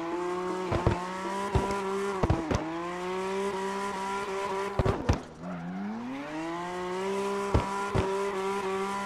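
Corona drift car in CarX Drift Racing Online, its engine droning steadily with pitch rising and falling, broken by several sharp tire squeals and shifts as it slides.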